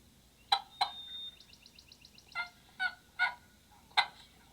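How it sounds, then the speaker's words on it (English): A wild turkey hen yelps in short hoarse series while a gobbler gobbles back, several distinct calls a few seconds apart, clear against quiet woods. "you heard her yelp. He gobbled, and she yelped at him."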